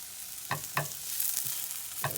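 Peppers fry in a pan, hissing with a constant soft sizzle, while a utensil stirs and scrapes them in four quick, distinct strokes, close and quiet.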